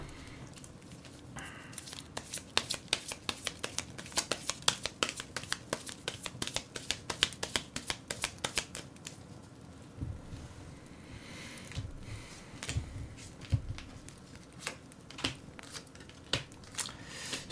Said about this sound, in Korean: 그래서 우리 좋은 카드도 한번 뽑아보도록 하죠